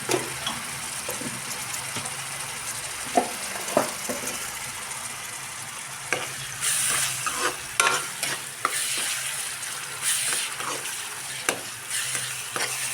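Fish pieces frying in a pan for a raw fish curry, a steady close sizzle running throughout with scattered clicks and scrapes of a spatula, no voices.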